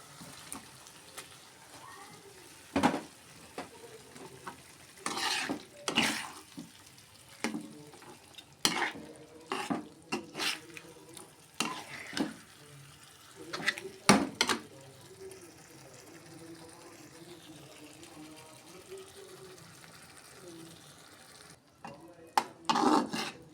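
Singi fish pieces sautéing with softened tomato in a pan, with intermittent scraping and stirring strokes over a low, steady sizzle, the loudest stirs clustered in bursts.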